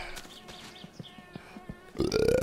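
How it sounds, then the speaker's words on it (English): A character in My Summer Car lets out a loud, rough burp near the end, preceded by faint scattered game noises. "Arthur burps again."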